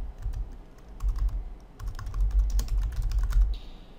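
Typing on a computer keyboard: quick, close key clicks in short bursts with brief pauses, crisp and moderately loud, with no talk over it.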